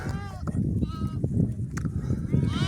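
A flock of sheep bleats repeatedly at a farm around feeding time, several overlapping calls near and far over a low rumble of pen noise, with someone talking through it.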